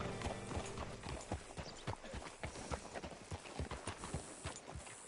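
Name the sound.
horse hooves clip-clopping, from a video game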